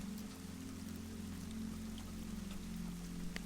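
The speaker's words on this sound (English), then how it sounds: "The rain continues to fall." Quiet rain falls steadily with scattered drops tapping on a surface, heard alongside a low constant hum, calm and faint with no voices.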